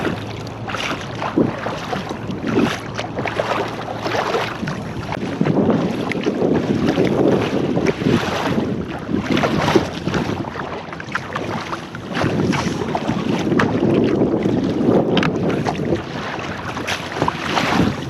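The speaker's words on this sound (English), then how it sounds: "Oh, he's a work boat." A work boat runs on the Columbia River bar, heard from a kayak amid heavy wind buffeting the microphone and rushing water, its engine a steady rumble beneath the gusts.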